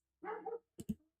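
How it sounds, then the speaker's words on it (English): Dogs bark outside, faint and distant: one drawn-out bark followed by two quick sharp yaps, with nothing else nearby. "The dogs are going wild outside."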